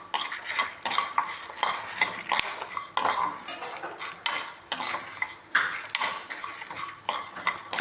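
Coriander seeds roasting in a pan, stirred with a metal spoon that scrapes and clinks against the pan in quick, repeated strokes, fairly close and continuous, with no talking.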